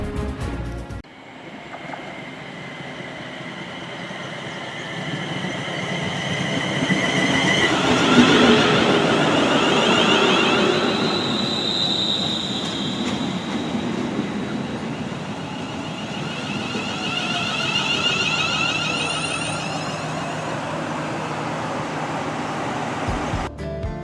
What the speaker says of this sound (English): the train that I'm travelling on calls at the Brutalism station of Stafford